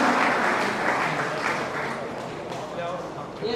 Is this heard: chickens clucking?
no